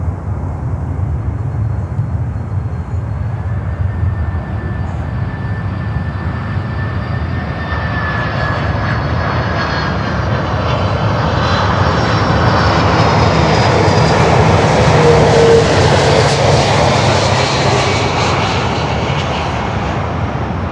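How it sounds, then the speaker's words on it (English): DHL Boeing 767 jet coming in to land on runway 9, a loud, broad engine roar that builds steadily as it approaches and passes close overhead. "Alrighty, 767 is inbound."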